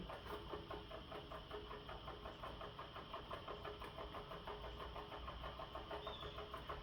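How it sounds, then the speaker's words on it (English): A small solenoid engine, spun by hand to get it going, runs with a steady, rapid mechanical chugging and clicking rhythm, close and continuous, with no voices. "So it's not self-starting because it's a solenoid engine"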